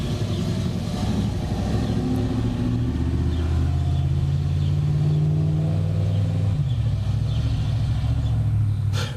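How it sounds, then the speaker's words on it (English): A GM truck with a TH125C/4T60 transmission and a TCC solenoid fault, which stalls when coming to a stop, runs rough, its engine rumbling loudly and unevenly nearby with shifting pitch and a wavering, uneven note. "Here's this guy's truck that sounds like shit."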